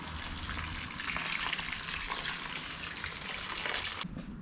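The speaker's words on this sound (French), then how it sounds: "on met de l'eau dans la cire. Donc de l'eau chaude pour gagner du temps sur la fonte de la cire" Hot water poured onto beeswax cappings, a steady, loud splashing rush that runs for about four seconds before tapering off.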